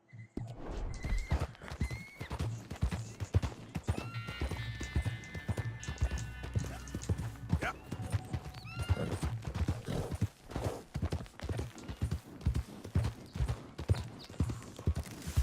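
In Red Dead Redemption II, a horse gallops with steady rhythmic hoofbeats, letting out whinnies and neighs along the way, while someone talks intermittently over the sound.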